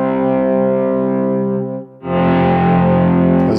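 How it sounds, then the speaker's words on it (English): Electric guitar through a Kemper Geisha amp profile, thick distorted sustained chords that fade out briefly and then swell back in loud, with chorus and echo effects. "you'll hear a lot of the swell-ins coming in as far as the parts in the beginning"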